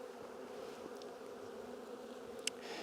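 A steady, low buzz of honeybees in a newly installed hive hums throughout, fairly faint and continuous, with no voices.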